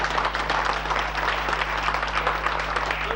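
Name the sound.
audience applause approving a committee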